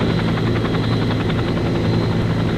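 Military helicopters in flight over a Vietnam landing zone in 1968-69, their rotor blades giving a steady, loud, continuous thrumming beat with dense engine roar throughout and no voices.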